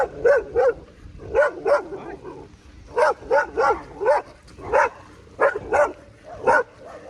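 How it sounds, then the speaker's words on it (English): A dog barks repeatedly at the roadside in Panama, loud, close bursts in quick pairs and triplets at an uneven rhythm, heard while cycling past. "Ooh, hi dog. Look at that."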